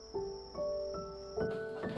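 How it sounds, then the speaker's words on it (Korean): Cicadas sing in Jeju at dusk near Hyeopjae, a sustained buzzing drone with a repeating pulsing call, clear and moderately close, no talk over it. "매미 소리가 너무 좋네요."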